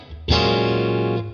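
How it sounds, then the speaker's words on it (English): Guitar tone played through the reverb pedal section of the Lumos amp plugin by PolyChrome DSP, one loud sustained note that hangs with a long even reverb tail and fades near the end. "And then we get to the reverb pedal of Lumis, which is a lot of fun."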